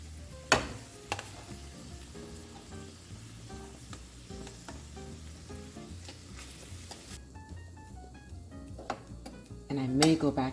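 Cauliflower rice sizzles and fries in a hot pan for stuffed peppers, a steady crackling hiss with stirring and clinks of utensils against the pan, growing louder near the end.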